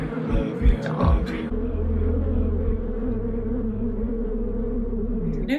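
A dense, low buzzing drone like a swarm of bees hums steadily with rumbling undertones, a few sharper sounds flickering over it near the start.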